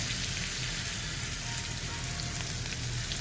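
Steady sizzling hiss of a spice tempering frying in hot oil for dal, continuous and fairly close, with no talking.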